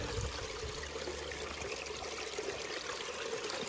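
A stream flows right beside a trailhead on the Rogue River Trail, a steady close trickling and gurgling rush of water with no other sounds.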